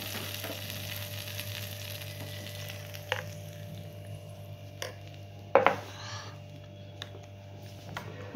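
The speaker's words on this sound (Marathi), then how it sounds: "जिरा टाकायचा आहे, कढीपत्ता टाकून घेऊ, थोडीशी कोथिंबीर टाकून आपण या चटणीला फोडणी देऊन घ्यायची आहे." Cumin, curry leaves and coriander sputtering in hot oil as a tempering for chutney, a steady low sizzle with a few sharp crackles and pops scattered through.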